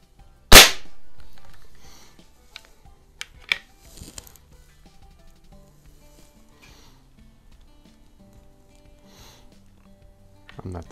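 Sharp report from a Crosman 180 .22 caliber CO2 pellet rifle firing once, loud and close, followed by a few fainter clicks and handling noises.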